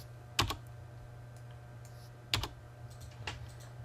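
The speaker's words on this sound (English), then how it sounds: "So I typed in John." Two short bursts of computer keyboard typing, a quick cluster of key clicks near the start and another about two seconds later, close and fairly quiet in a still room, with a few faint taps afterward.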